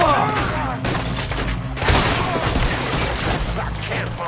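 Gunfire and booming shots from a Western shootout in the video game Red Dead Redemption 2, a dense continuous barrage with thuds layered under game dialogue and excited voices.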